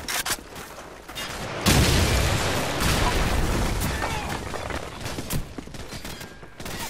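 Sustained automatic gunfire and bursts from a Call of Duty 4 firefight rattle continuously, with a heavy boom near the middle and overlapping shots throughout, loud and dense, with voices shouting beneath.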